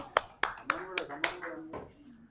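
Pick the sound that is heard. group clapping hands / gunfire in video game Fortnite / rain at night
group clapping hands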